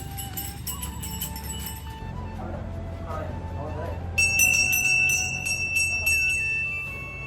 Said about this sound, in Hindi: सो हम लोग मंदिर में घुसने के बाद दरवाजा का घंटी बजाया।